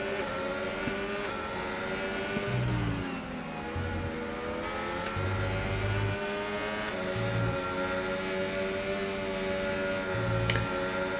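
F1 cars racing at Mexico in the F1 25 video game, a close high-pitched engine whine climbing and dropping through gear shifts, steady and loud, with another car's engine layered in during a battle for position.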